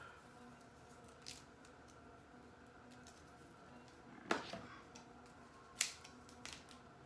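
Scissors snip through T-shirt fabric in a quiet room, a few short faint cuts with two sharper, louder snips near the end.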